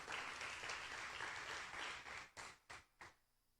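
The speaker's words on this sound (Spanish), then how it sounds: "Dale fuerte el aplauso en alabanza al Señor." A church congregation claps hard in praise to the Lord, a dense steady burst of applause that cuts off into a few final isolated claps trailing away to quiet.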